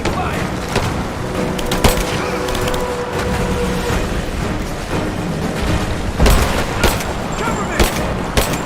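Sustained covering gunfire in the action game Rise of the Tomb Raider rattles on, with sharp, close individual shots and heavier booms punctuating a constant din of combat, while voices call out underneath.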